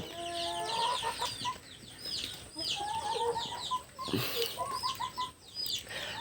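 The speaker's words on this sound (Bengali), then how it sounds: "এই মোরগটা কালো এবং লাল মিক্স টাইপের" A black-and-red mixed rooster, the top bird of a small farm flock, gives clucking calls amid other chicken sounds and brief wing flapping, moderately close and fairly faint over a soft outdoor background.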